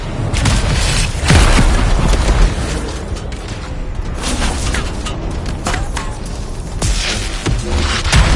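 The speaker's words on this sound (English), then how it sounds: "that Shaper crystal, it's gonna blow" A Shaper crystal blows apart during a fight in the video game Anthem, a deep, loud boom rolling over constant battle noise, with further blasts and crackling bursts following through the chaotic soundscape.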